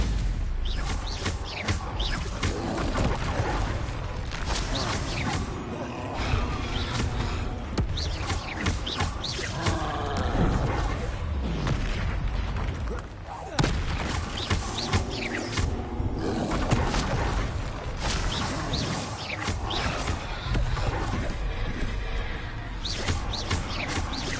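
Combat spells in the video game Hogwarts Legacy: dense, loud magical blasts, whooshes and crashes layered over game music and creature roars, continuous and busy throughout.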